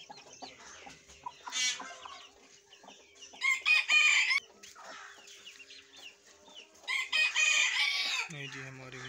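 A hen that hatched turkey chicks clucks and squawks in loud, close bursts, with softer clucking and faint peeping in between; a steady low hum runs underneath.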